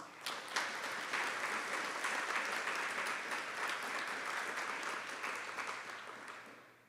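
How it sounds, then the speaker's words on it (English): An in-person audience at a museum evening talk applauds steadily, a dense even patter of many hands that swells quickly, holds for several seconds and then tapers away at the end. "A round of applause for our audience in person and online this evening."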